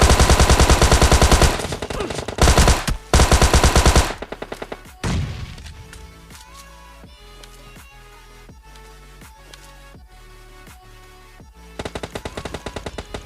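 Rapid automatic gunfire in the mobile shooter PUBG Mobile Lite, loud sustained bursts early on, then quieter, spaced single shots and later a short burst.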